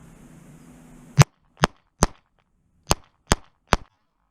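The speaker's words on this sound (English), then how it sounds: "these were our first shots taken after installing the red dot" Six sharp, loud gunshots from a Mossberg MC2sc 9mm micro pistol fitted with a red dot sight, fired at an irregular pace over about three seconds, each a clean, close crack with silence between.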